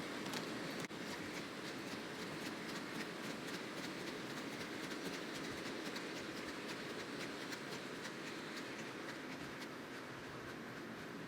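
A model train rumbles steadily along its layout track with a continuous clicking clatter, even and unbroken throughout, fairly faint.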